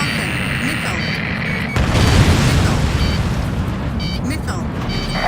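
A missile explosion in the combat flight game Ace Combat Assault Horizon: a loud, heavy boom that hits partway through over a constant roar of jet engines and battle noise, with voices speaking across it.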